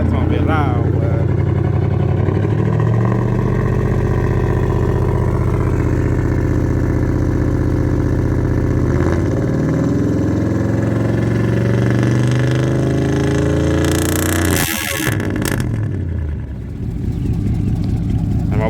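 Idling V8 rumble from a GMC 1500 pickup fitted with a Rough Country dual cat-back exhaust, a deep steady drone close by with a brief rev near the end, while people talk over it.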